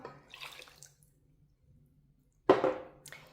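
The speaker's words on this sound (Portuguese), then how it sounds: "Aqui nós vamos começar adicionando todo o açúcar na panela, seguido da água." Water is poured into a saucepan of sugar for a praline filling: a soft splashy pour at first, a quiet pause, then a louder, brighter burst of pouring near the end, close by with no talk.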